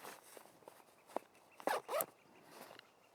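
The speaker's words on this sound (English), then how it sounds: "I usually put the two zippers" Zippers on a Range backpack slide in a few short, quick rasps, one brief pull then two louder strokes close by, scattered among soft handling rustles in a quiet room.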